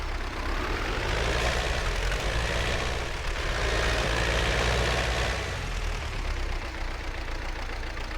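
A tractor engine in the video game Farming Simulator 17 drones steadily and loudly with an even, unbroken hum.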